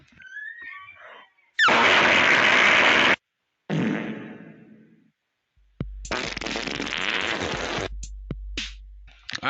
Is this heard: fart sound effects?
yes